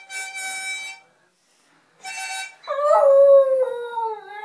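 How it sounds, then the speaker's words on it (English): A dog howls in a sustained, wavering tone that rises and falls, following two brief bursts of louder sound with a pause between them, close and fairly loud. "Yeah, singing dog."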